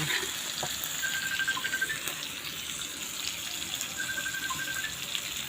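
Chili and garlic stir-frying in a pan, a steady close sizzle with faint stirring scrapes and no talk.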